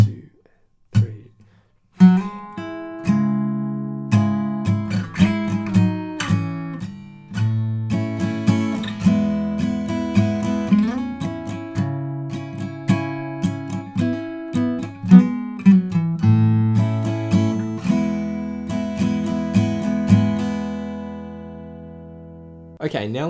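Acoustic guitar plays the intro of a song, a continuous run of close, clearly picked notes and chords with bass movement, lasting over twenty seconds without talk.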